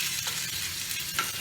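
Dry red chilies and garlic fry in oil for a momo chutney, a soft steady sizzle close by with a couple of faint stirring touches.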